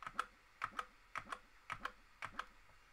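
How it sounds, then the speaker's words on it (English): Cursor keys on a computer keyboard are tapped in quick pairs to scroll a menu on an A600GS or A1200NG Amiga-style computer, the crisp clicks close and clear in a quiet room. "you can use your cursor keys to move it up or down, as you can see."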